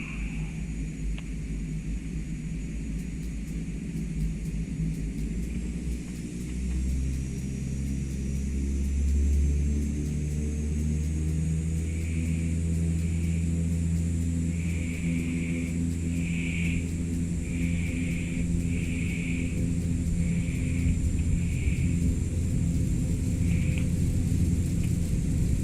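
Canadair CL-415 water bomber spooling up for its takeoff roll in Microsoft Flight Simulator 2024, Hawaii: a steady, droning turboprop engine roar with a rising tonal whine, continuous and loud, with no talk.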